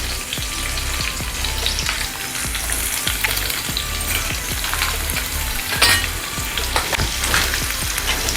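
Finely chopped garlic hits hot oil already holding mustard seeds, cumin and curry leaves for dal tadka, a loud close sizzle with popping crackles and a few stirring scrapes throughout.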